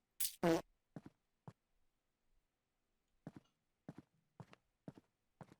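A game character lets out a loud, harsh fart near the start, a short broad burst followed by a second longer blast, then a string of short soft thuds like footsteps, with no talking.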